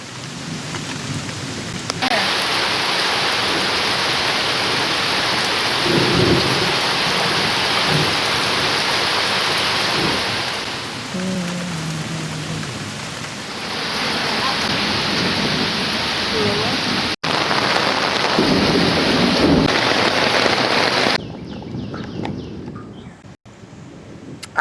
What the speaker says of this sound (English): I am so excited to see it rain.